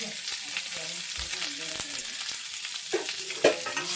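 Eggs frying with onions in a pan for an egg pepper dry, a steady close sizzle with intermittent spatula scrapes and stirring clatters, a couple of sharper knocks near the end.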